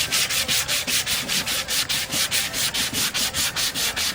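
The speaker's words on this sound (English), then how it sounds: "Just for fun, I'm going to try a little stiffer grade sandpaper." Sandpaper rubbed back and forth over a wooden bowl during restoration, a steady rhythmic scratching with about fifteen even strokes, close and loud, no talking.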